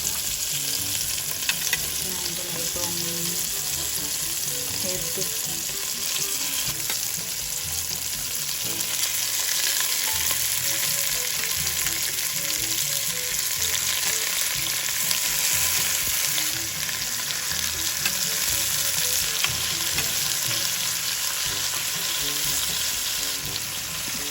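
Salmon head and belly go into a pot for sinigang, producing a continuous even sizzle and hiss that holds steady throughout with no talking.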